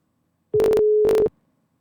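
A telephone dialing a number, heard as a steady tone interrupted by two short bursts of dial-tone chatter, then abruptly cut off into silence, loud and close with no talking.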